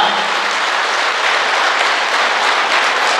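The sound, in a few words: audience applause for kidney donor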